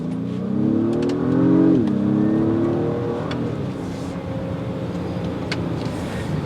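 A 2022 Acura MDX Type S exhaust drones steadily as it drives, the engine note rising briefly, then settling into an even, moderately loud hum.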